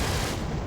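A 20mm cannon on an X Alpha unit fires in the Wargame Red Dragon strategy game, a dense continuous roar of rapid, loud shots filling the short moment without talk.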